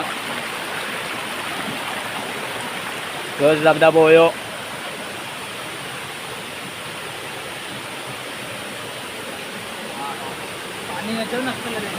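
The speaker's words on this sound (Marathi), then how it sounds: "मेन पाकावाडीचा धबधबा" Insuli Pagavadi waterfall near Sawantwadi roars as a steady, broad rush of falling water that fills the whole time, with a brief louder vocal burst early on and a fainter one near the end.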